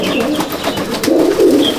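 A golden bloodline female breeder pigeon coos close and loud, a low throaty rolling murmur that swells toward the end, with light rustling around it.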